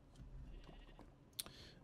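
A game sheep bleats once, short and sharp, near the end, over a low rumbling game soundscape with faint scattered noises, on a farm plot beside potato fields, a harvester and a planter.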